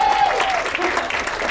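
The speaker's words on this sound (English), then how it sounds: "who we need to give a round of applause to" A crowd at a screening event applauds, dense even clapping from many hands held at a steady moderate level, with a faint voice briefly audible at the start.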